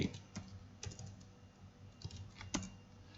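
Computer keyboard typing of a short terminal command, a quiet run of sparse, irregular key clicks with small pauses between strokes, close and alone with no talk.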